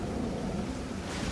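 Storm wind and surf rolling onto a beach in the survival game Stranded Deep, a steady, full roar of waves and gusting wind with no break and no voices.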